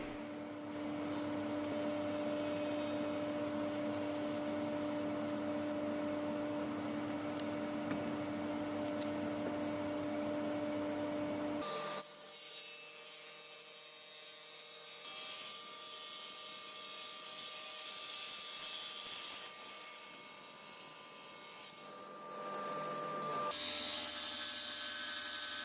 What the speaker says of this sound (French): Je commence par couper deux côtés bien parallèles